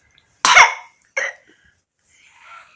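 A child coughs twice, close and sharp, the first cough longer and harsher, followed by a faint breath.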